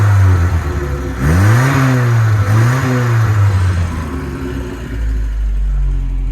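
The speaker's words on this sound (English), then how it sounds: "There's the exhaust sound." A restored 1980 Toyota pickup with a Cherry Bomb Thrust turbo muffler revs hard twice, its deep exhaust note rising and falling close by, then settles back to a steady rumbling idle.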